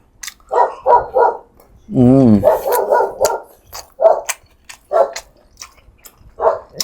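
A dog barks in short bursts near an outdoor food-and-drink eating challenge, with a growl-like rising sound among repeated sharp barks spread across the stretch.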